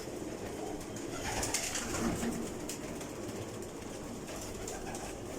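Breeder pigeons coo softly inside an indoor loft room, their low murmurs set under a steady, busy background of rustling and flapping and wing clatter.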